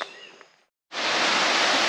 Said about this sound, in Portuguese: chegamos na segunda cachoeira